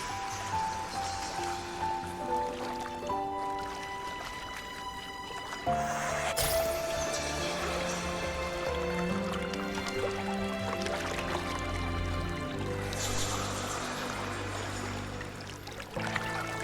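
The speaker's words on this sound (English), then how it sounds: "That's a really big waterfall." A large waterfall in the video game Rinascita, a steady rushing wash of falling water running continuously under game music, with a brief swell of louder splashing midway.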